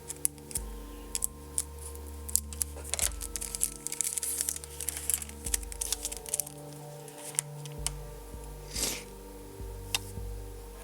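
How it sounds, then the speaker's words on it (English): Scissors snip repeatedly through a plastic bag holding eurorack mixer module parts, crisp close cuts mixed with crinkling plastic, steady and near with no talk. "Let me get my scissors because I'm not smart enough to open this bag."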